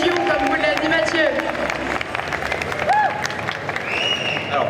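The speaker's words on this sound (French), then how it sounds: "Allez, on l'applaudit bien fort" Audience at a cosplay contest at Gamefest Nancy 2024 applauding, a dense wash of clapping from a crowd with cheers and whistles and babble mixed in.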